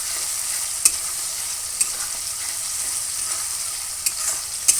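Prawn malai curry with cashew and raisin paste stir-fried in a pan, giving a steady close sizzle broken by a few sharp spatula scrapes, with no talk.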